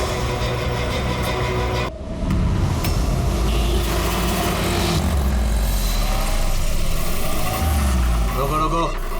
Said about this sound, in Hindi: कारें आ तो रही हैं।